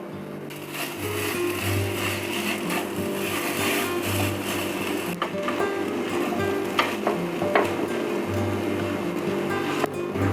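Mashed potato goes into a hot frying pan, giving a constant close sizzle of oil with a low rumble beneath and scattered scraping knocks.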